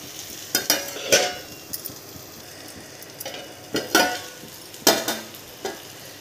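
Eggplant slices fry in a pan over a medium gas flame, giving bursts of sizzling and crackling with short scraping stirs, close and moderately loud, with no talking.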